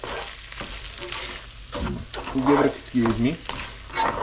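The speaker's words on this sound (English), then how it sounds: "Give it a quick stir." Meat mixture and pasta stirred in a pan, scraping and shuffling strokes in uneven pulses over a soft sizzle, fairly close, with a voice speaking briefly partway through.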